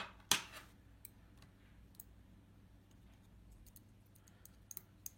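A Samsung Galaxy S8 rear camera is pressed back onto the phone's motherboard, making one sharp snap near the start followed by a few faint, scattered ticks in a quiet room.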